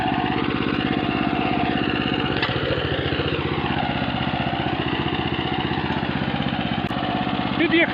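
A gasoline branch shredder engine runs at steady revs out in a vegetable garden, a loud, close, continuous mechanical drone that holds without a break from start to finish.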